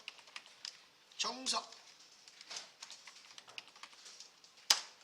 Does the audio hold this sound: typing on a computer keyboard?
yes